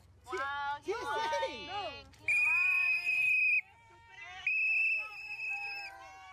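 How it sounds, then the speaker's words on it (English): Loud, sustained shrill whistle blasts at an anti-ICE street protest, two long steady tones separated by a short gap, following a stretch of yelling and chanting voices. "Oh my god, that fucking whistling."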